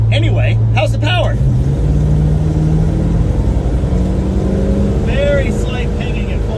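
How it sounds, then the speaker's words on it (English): A 1968 Dodge Dart sedan's engine pulls hard at full throttle with slight pinging, a loud steady roar heard from inside the car, with people talking over it. "Very slight pinging at full throttle."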